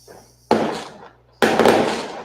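Two sharp bangs from gunshots or fireworks outside a house, the first at mid distance and the second louder with a longer decaying rumble, each followed by a noisy tail.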